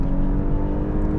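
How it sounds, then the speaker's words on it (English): The 2026 Audi S5 with a 7-speed dual-clutch in dynamic mode, its cabin filled with a steady, humming engine drone at constant pitch, fairly loud and continuous with no talk. "we instantly get a bit of that false drony noise coming into the cabin"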